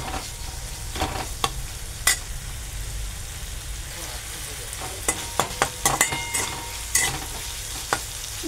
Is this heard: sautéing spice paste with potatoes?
yes